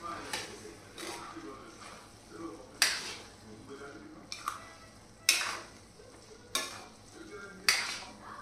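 Rice, potato and onion stirred together in a cooking pot, with soft scraping strokes and a few sharper clinks of the spoon against the pot at an irregular pace, close by over a faint sizzle.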